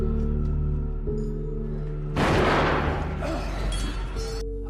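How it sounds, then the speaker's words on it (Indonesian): A loud gunshot blast bursts out of a film's tense scene, a sudden broadband crack with a rumbling tail that fades over a couple of seconds above a steady musical drone. "Akibat suara tembakan barusan"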